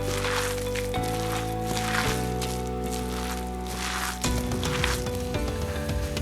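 Yellow peas vadai frying in hot oil, a close, continuous crackling sizzle with a low steady hum running beneath it.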